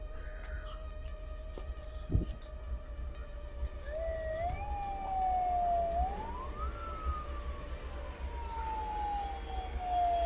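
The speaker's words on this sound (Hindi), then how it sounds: "इधर एम्बुलेंस की आवाज कैसी आ गई इधर?" A wailing siren rises and falls over steady traffic rumble, sweeping slowly in pitch from mid-clip onward, moderately loud against a thin click early on.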